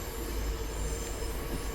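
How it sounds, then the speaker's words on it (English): An HSP46 diesel locomotive on the MBTA Worcester commuter line in Train Sim World accelerates, giving a steady loud low engine rumble with a faint high wheel whine, continuous and unbroken. "these HSP 46s take forever to accelerate"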